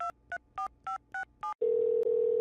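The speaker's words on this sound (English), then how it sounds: "I'll just call him on his phone." Six evenly spaced keypad beeps from a phone being dialed in a detective video game, followed by a steady ringing tone, all clear and close with no talk.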